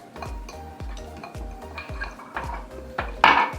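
Banana muffin batter is stirred in a bowl with a spoon or utensil, giving steady rhythmic scraping and clinking about twice per second, close and moderately loud, with no talk.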